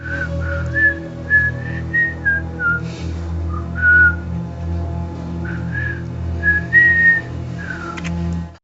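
A person whistles a series of short, clear melodic notes in bursts, with brief pauses between phrases, over a steady low background hum.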